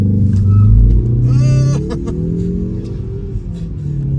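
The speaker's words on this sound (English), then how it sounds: "And then gas all the way down, it'll hold. So it launches." A 2021 Mazda 3 hatchback with a 2.5L turbo engine launches from a standstill, a loud low engine roar that swells then settles into a steady pull, with a brief squeal and faint voices mixed in.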